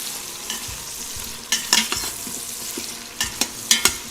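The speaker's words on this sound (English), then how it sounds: "Keep it into a little bit chunkier pieces because it gets cooked very fast." Chunky eggplant pieces sauté in a pan for Maharashtrian masale bhat, giving a quiet sizzle punctuated by bursts of spatula scrapes and stirring clatter, some close and sharp, with no talking.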